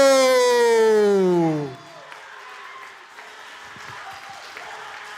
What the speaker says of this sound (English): let's give a big round of applause to Lisbeth Ariano